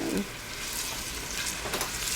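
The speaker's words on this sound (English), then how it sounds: "You should start to hear them sizzle here pretty soon." Onions sizzle steadily in a hot pan as they turn translucent, a dense crackling hiss with occasional stirring scrapes, close and continuous.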